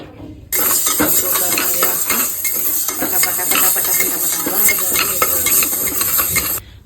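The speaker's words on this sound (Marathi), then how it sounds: "हिरवं मूग ह्या गॅसवरती भाजायचे" Dry green moong beans rattle and scrape in a hot pan over a gas flame, stirred continuously with a steady rasping sizzle that starts abruptly and stops at the end.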